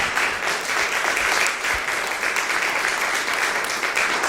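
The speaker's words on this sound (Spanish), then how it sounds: "Denle un fuerte aplauso al Rey de Reyes." Audience applause during a church service, dense steady clapping that fills the whole stretch without pause.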